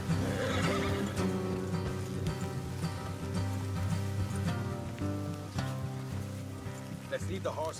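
A horse whinnies amid steady rain and hoofbeats in Red Dead Redemption, while voices speak over a continuous background of game sounds.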